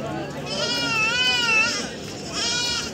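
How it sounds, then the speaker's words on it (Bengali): Goats, castrated males of both local and crossbred types, bleat repeatedly at a busy livestock market in Nadia, with a murmur of buyers and sellers talking throughout. "দুটাই খাসি আছে? দুটোই খাসি।"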